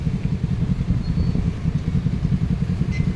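A Kawasaki motorcycle passes on a drizzly national highway near Pavilion Mall in Biñan City, Laguna, its engine a low, steady rumble with faint clatter and no talk.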